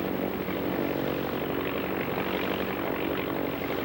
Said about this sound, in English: Here's the Army's fast Boeing pursuit plane, capable of better than 200 miles per hour